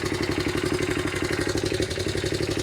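A 1982 Honda XL80S motorcycle engine idles steadily up close, a fast even putter with a rattling mechanical clatter running through it, loud and continuous with no voices over it.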